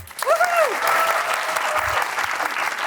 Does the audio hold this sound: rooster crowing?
no